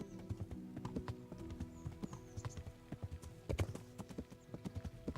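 Steady clip-clop of horse hooves in Kingdom Come: Deliverance, walking at a slow, even rhythm, fairly faint, with a few sharper knocks.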